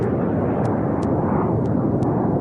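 Passenger airliner with a pressurized hull, carrying 81 passengers and 6 crew, climbing toward 23,000 feet after takeoff: a loud, steady broadband engine roar heard from inside, with a few faint high ticks.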